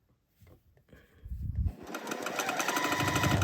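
A sewing machine stitches a quilt seam, starting with a few soft clicks and handling sounds before breaking into a rapid, steady mechanical whir that continues close up to the end.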